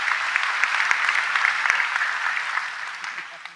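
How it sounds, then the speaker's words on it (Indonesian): An audience claps for a speaker at a religious gathering, a dense, even patter of many hands that stays steady and then eases slightly toward the end. "Tepuk tangan untuk beliau"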